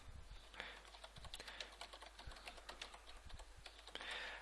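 Rapid, close clicking of a computer keyboard as a code comment is typed, a steady patter of keystrokes with no talking.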